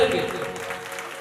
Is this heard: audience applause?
yes